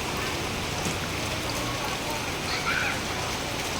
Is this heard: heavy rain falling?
yes